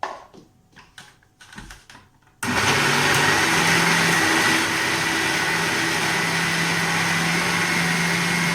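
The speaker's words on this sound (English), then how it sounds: "so we will grind it." A mixer grinder whirs loudly as it blends a cooled puree for malai kofta, switching on abruptly after a few quiet kitchen clatters and then running as a steady, close, high-pitched motor whine.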